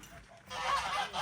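Geese honk in a farm animal enclosure, fairly close and loud, with overlapping calls through the second half after a quieter start.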